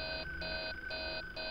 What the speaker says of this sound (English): And there's the breathing alarm.